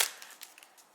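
A cable connector on a Y cable harness snaps into place with one sharp click, followed by a few faint small rattles close up.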